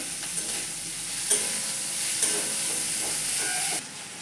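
Chopped tomatoes and two green chilies fry in a pan with a steady, close sizzle while being stirred, a couple of sharp spatula scrapes standing out, during village-style home cooking of a potato and pea curry.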